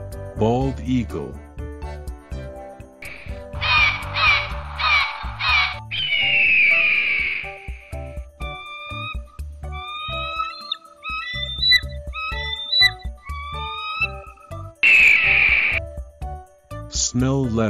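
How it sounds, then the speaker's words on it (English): A bald eagle calls in high, thin, squeaky chirps and piping whistles, repeated in quick rapid series with brief gaps, close and clear. "Bald eagle."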